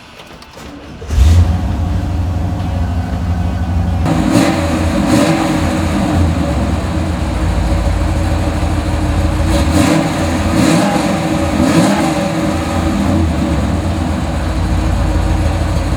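A 1968 Chevrolet Camaro SS 350 V8 engine cranks and catches, then settles into a deep, loud rumble, with several sharp revs rising and falling over the idle.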